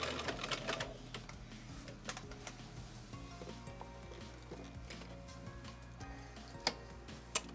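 A Bernina Record 930 sewing machine stitches zigzag with a soft, rapid mechanical ticking and clatter. A few sharper clicks stand out, all quiet and close with no voices.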